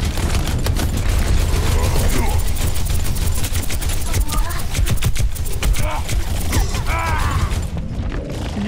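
Gunfire from a shooting exchange in the Overwatch video game, with rapid repeated shots throughout, mixed with game effects and mechanical clicks and occasional voices.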